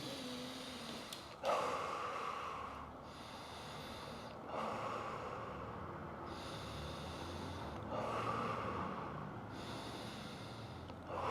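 Heavy, deep breaths during elbow pain treatment, several loud snorting inhales and exhales spaced a few seconds apart, close and without talk.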